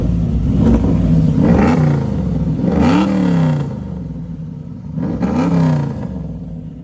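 A 1972 Chevrolet Chevelle's exhaust rumbles loud and close as the engine is revved in several rising-and-falling blips over a deep idle, with no talking.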